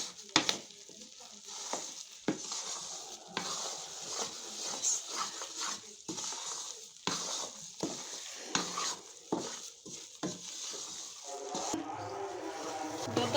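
Gram flour roasting in homemade ghee while being stirred, a steady soft sizzle with scraping strokes of a spoon against the pan running throughout, and a voice talking faintly at times.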